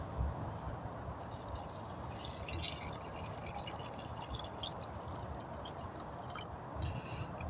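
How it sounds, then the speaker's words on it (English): Hot water pours and trickles into a container at an outdoor off-grid pallet cabin, a soft continuous splashing and dripping set against a background of chirping insects. "Here we go, right here with our water, hot water going in."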